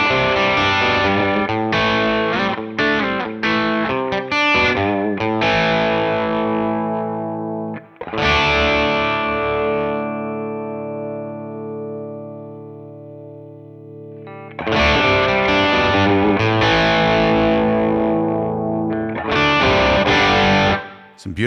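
Electric guitar played through the low channel of an IK Multimedia Mesa/Boogie amp plugin, distorted with chorus: choppy chord stabs, a long sustained ringing chord fading out, then more loud driven strumming.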